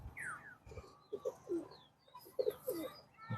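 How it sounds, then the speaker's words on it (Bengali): A small female pigeon with black tail feathers in a loft coos in several soft, rounded bursts, fairly faint, with a few light chirps from other birds around it. "একটা পিচ্চি মিচ্চি মাদি কবুতর, মাশাল্লাহ কবুতরটা খুব সুন্দর"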